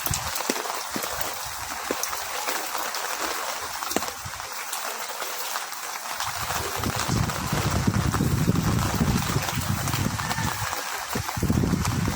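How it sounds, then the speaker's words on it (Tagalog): Steady typhoon rain falls continuously in Burdeos, Quezon, a dense hiss of drops on surfaces that grows fuller and heavier partway through, with no voices. "At medyo humihina na ang ulan."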